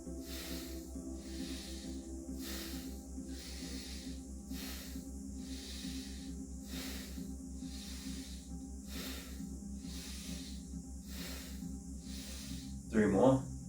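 Bhastrika pranayama breathing pumped at about one second in and one second out, steady forceful rhythmic nasal breaths under a soft background hum, ending in a louder burst.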